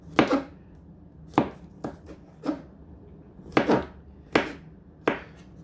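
A knife chops garlic on a cutting board for guacamole, giving about eight sharp, close thuds at an uneven, unhurried pace, heard alone in a quiet kitchen.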